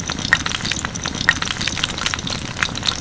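Eggplant slices frying in hot oil in a pan, a steady close crackling sizzle with small spitting pops throughout, no voices.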